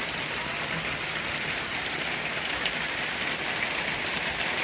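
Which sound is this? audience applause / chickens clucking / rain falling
rain falling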